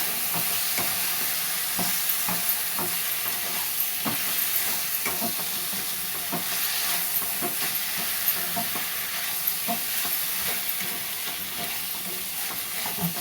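Brinjal pieces sauté with masala in a hot pan, giving a steady close sizzle with frequent scraping stirs and small clinks throughout, no voices.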